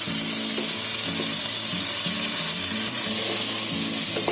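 Mixed vegetables and finely chopped tomato frying in a pan for an onion-free veg tahari pulao, a steady loud sizzle running throughout with occasional stirring clinks.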